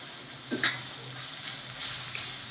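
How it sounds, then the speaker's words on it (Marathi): Chopped onion sautéing in oil in a pan while making spicy fenugreek pithla, a steady close sizzle with a couple of brief stirring scrapes near the start, no talking. "याच्यामध्ये कांदा एक मिडियम खायचा कांदा चिरलेला तो टाकायचा"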